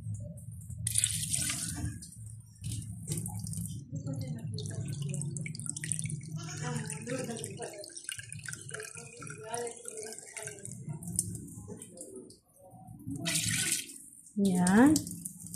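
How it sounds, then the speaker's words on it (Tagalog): Water is poured into a cooking pot of broth in an intermittent splashing trickle at close range, partly under a person's talking, with a brief clatter near the end. "So, dagdagan lang po natin siya ng tubig."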